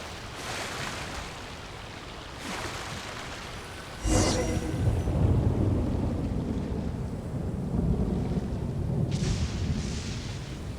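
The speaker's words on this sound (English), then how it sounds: "Where'd that thunder come from?" Thunder rumbling during a storm in the video game Genshin Impact, a sudden loud crack partway through followed by a long, low roll that lingers over wind-like rushing background noise.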